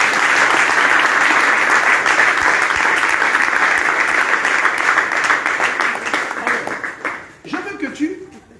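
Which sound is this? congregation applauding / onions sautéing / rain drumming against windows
congregation applauding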